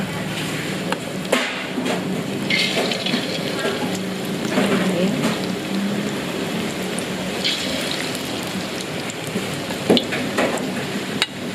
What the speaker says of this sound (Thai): แล้วก็เตรียมทอดกันค่ะ